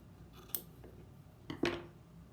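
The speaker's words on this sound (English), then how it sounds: "I'm going to go back and trim some more off." Scissors snip through a gnome's craft beard in two or three short, crisp cuts close to the mic, with quiet pauses between them.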